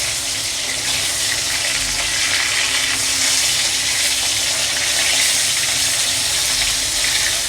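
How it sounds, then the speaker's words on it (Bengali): Rohu fish fries in a hot pan, giving a loud, steady, dense sizzle that holds close and unbroken throughout, with no talking. "আমার এক পিঠ হয়ে গেছে ভাজা, আমি মাছটাকে এবার উল্টে দেব।"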